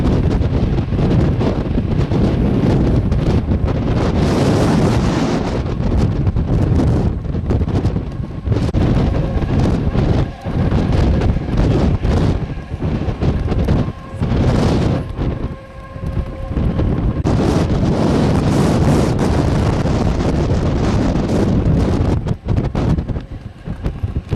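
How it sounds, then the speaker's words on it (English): Very strong wind in Antarctica buffets the microphone, loud roaring gusts and rumbling blasts that surge and ease throughout, with no talk. "Very strong wind."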